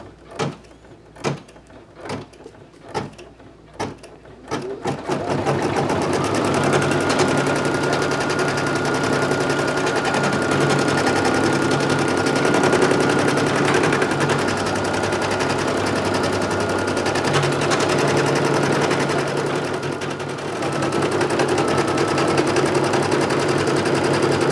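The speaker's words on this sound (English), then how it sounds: "finish this off with the satin stitch from my embroidery" An embroidery machine sews a satin stitch around a minky applique topped with water-soluble stabilizer. A few separate mechanical clicks are followed by a steady, loud, fast-buzzing stitching hum that runs on without pause.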